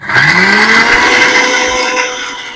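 Mixer grinder running loud and steady, blending curd chutney with salt for chana dal kachori, a rising whine that eases off near the end.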